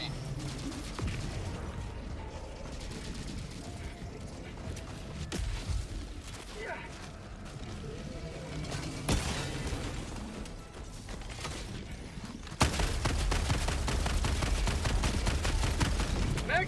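Sentry gun firing in Helldivers 2 during a battle against the Illuminate, rapid continuous bursts of gunfire with mechanical clatter, intensifying into a louder, denser barrage near the end amid chaotic combat noise.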